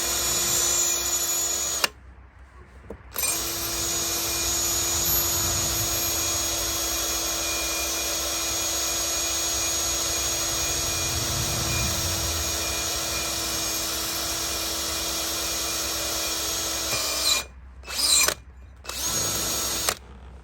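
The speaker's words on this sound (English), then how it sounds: "So I actually drilled through." A power drill whines continuously up close, boring through a stripped, cross-threaded exhaust manifold nut on a Mercedes, with brief pauses near the start and end where the drill stops and restarts.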